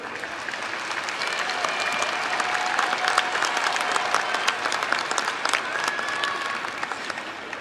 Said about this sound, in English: just give them a big round of applause for their support